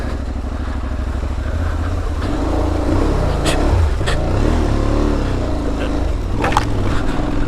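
Aprilia Tuareg 660 motorcycle engine running steadily while riding through mud, a loud continuous motor drone with slight throttle changes and occasional splashing or clattering bursts, no talking.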